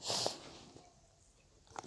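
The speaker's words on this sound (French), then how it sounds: "désolé les gens si je renifle un peu" A sick person sniffles at close range, a short breathy snuffle at the start followed by a quieter sniff near the end, with faint room noise between.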